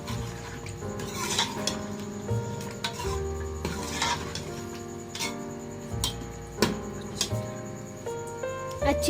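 Mutton is stirred and fried with desi ghee in a pot, with rhythmic metallic scraping and clinking of the spoon against the pot over a soft sizzle.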